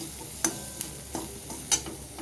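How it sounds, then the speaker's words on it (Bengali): A spoon stirs a potato and spice mixture for a bread snack in a pan, with a few distinct scraping taps over a low steady sizzle, close and moderately loud. "এবারে আমি কিছুক্ষণ মিশিয়ে নেব"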